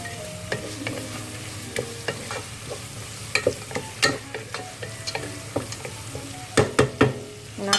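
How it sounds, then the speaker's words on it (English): Onions for a Sri Lankan chicken curry fry in a pan with a low, constant sizzle, broken by frequent sharp clicks and scrapes from stirring that grow louder toward the end. "Let it cook till the onions have softened a little."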